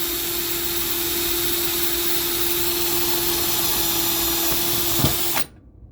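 A power drill whines steadily and loudly for several seconds as a sharp bit grinds through a metal screw in pinball flipper parts, then cuts off abruptly.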